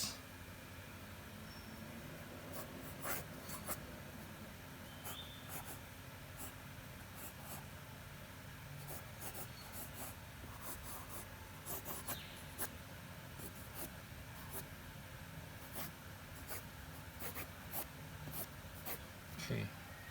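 Pencil sketching on paper: soft scratchy strokes and taps arrive in irregular bursts over a quiet background, close and fairly faint, with no talking.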